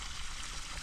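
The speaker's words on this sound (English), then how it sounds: "now I'm adding water" Water runs steadily into a farm pond used for growing Azolla, a continuous near, even rush of flowing water with no break and no voices.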